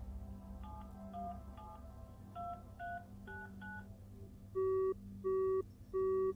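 Telephone keypad tones beep in a quick sequence from The Final Station video game, followed by three loud, steady busy-signal pulses, all over a low background hum with no talking.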